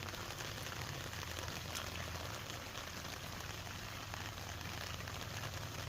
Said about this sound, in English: they're loving the rain here